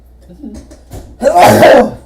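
A single loud sneeze-like burst follows some quiet murmuring, sharp and close, ending the clip.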